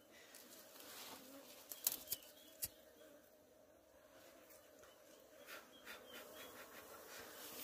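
Honey bees hum faintly and continuously at a hive trap in the mountain forest, a soft outdoor drone with a few sharp ticks and clicks over it.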